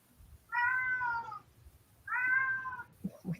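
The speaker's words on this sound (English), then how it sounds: "Is there a cat?" A house cat meowing indoors, two drawn-out clear meows about a second apart, close and fairly loud, followed by soft rustling.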